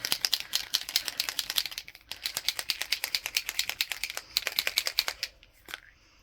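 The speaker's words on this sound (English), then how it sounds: "we need to shake with the cap in place" A paint marker with its cap on is shaken hard, its mixing ball rattling in fast, regular bursts close up, with brief pauses between runs of shaking.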